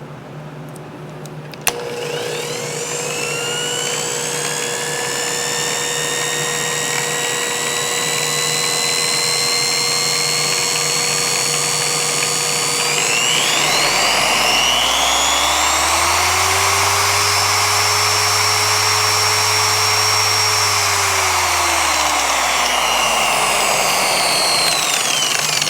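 A Baur polisher runs continuously, its steady motor whine rising in pitch as the speed climbs from setting 1 up to 6, then easing back down, loud and close with no talk.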